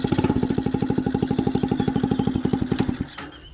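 A scooter's small engine, with a variator transmission, revs hard with a rapid, loud, pulsing putter that holds for about three seconds, then drops off abruptly and fades.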